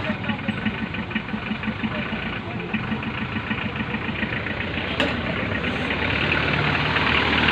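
A Hindustan Ambassador car engine running after a starter repair, a steady rough idle with a slight rise in revs toward the end, close and continuous with talk over it.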